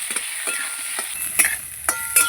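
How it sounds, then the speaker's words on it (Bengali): Eggplant frying in a pan sizzles with a hissy crackle, broken by several short scraping stirs in a loose rhythm, close and moderately loud. "বেগুনটাও আমি লাল লাল করে ভেজে নেবো"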